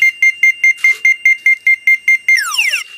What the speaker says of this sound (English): The beeping tone from the receiver indicates a strong signal.